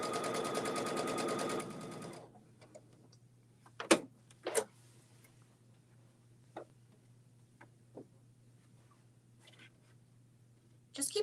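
A sewing machine run by a foot pedal stitches in a fast steady whir for about two seconds, then stops, followed by scattered clicks and light knocks.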